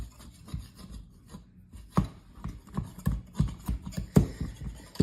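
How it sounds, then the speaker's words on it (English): A knife scraping and tapping around the edges of a hot, buttered cornbread pan, irregular close rasping strokes with sharp knocks against the metal, no talking. "I'm gonna go around the sides of the pan."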